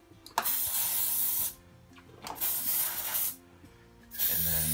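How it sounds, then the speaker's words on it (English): Grease lubricant sprayed onto the brake pin of a Stokke Trailz stroller, three long loud hissing bursts close up, separated by short quiet gaps with faint mechanical handling. "it's also quite important to get where the brake pin goes in on this end, as the grease won't slide down to there just by spraying in the other side"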